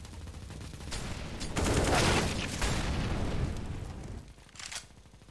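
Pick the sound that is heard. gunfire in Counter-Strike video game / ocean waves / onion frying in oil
gunfire in Counter-Strike video game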